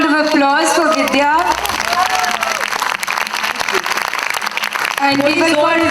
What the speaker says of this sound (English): A big round of applause for Vidya.